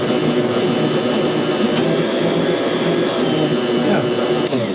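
A Bosch Universal Plus stand mixer churns a double batch of oatmeal raisin cookie dough, its motor giving a loud, steady, unbroken whir close by from start to finish.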